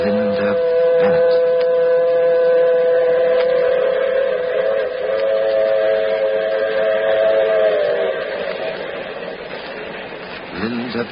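A train in a radio drama sounds a long, loud, sustained whistle chord over a rumbling run, the tone holding for several seconds before fading as the train noise continues, with voices heard at points.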